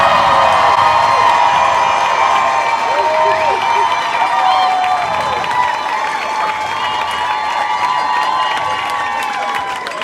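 A live audience at a pun competition cheers, whoops and shouts continuously to vote for a contestant, a dense, loud crowd roar with children's shrieks mixed in that slowly eases.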